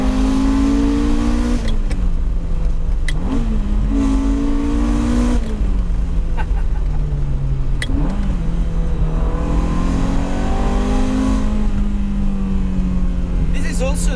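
A Ferrari 355 with a manual gearbox drives on the road, its engine droning loud and close, with rising revs that drop at each gear change across the run.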